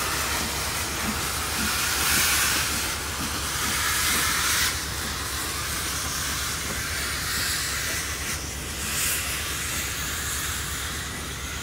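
Steady broadband hiss from a steam locomotive at a heritage railway gala, continuous and fairly loud for the whole stretch with a low rumble underneath and no talking.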